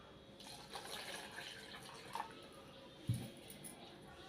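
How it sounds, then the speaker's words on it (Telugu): Water is poured into a bowl holding soaked tamarind while making Lakshmi charu (rasam): a faint, soft trickle and splash with a duller thump near the end, quiet throughout. "మళ్ళీ వాటర్ వేసుకుందాం"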